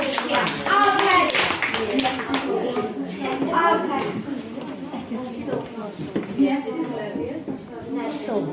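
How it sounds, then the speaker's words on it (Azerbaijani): A child claps hands in a short burst of light taps while adults and children talk over and around the clapping. "Məhəmməd alqışıya."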